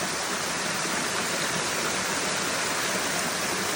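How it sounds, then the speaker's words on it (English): Hiker's Peril Falls, a waterfall on the Foothills Trail, roars in a dense, steady, loud rush of water with no pauses and no voices. "Hiker's Peril Falls. Can't even really see the top up there."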